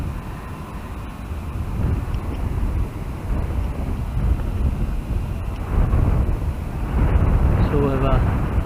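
Steady wind noise rumbles across the microphone throughout, moderately loud, with faint background sounds, during a bike ride near Aintree.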